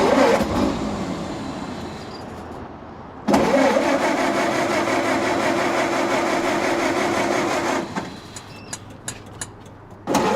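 A Ford Model A engine cranking with the starter, then catching and running loud and steady close by for several seconds before it drops back and a few clicks follow.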